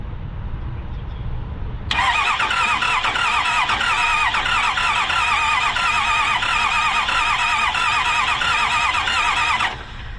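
A camper's engine cranks with the fuel pump switched off: after a quiet start, a loud, steady, rhythmic churning begins and runs unbroken for about eight seconds, then stops abruptly. No one speaks.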